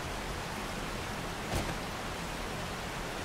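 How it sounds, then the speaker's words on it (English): Rainfall in the survival video game 7 Days To Die makes a loud, steady broadband hiss that runs unbroken, with one brief swell midway. "The rain in this game is very loud."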